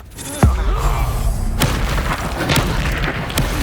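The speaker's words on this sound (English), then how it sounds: "You've made a great Incendio!" A fiery Incendio spell bursts out in Hogwarts Legacy: a sharp, loud boom opens the clip, a second thump follows about a second later, and crackling fire and combat noise carry on after it.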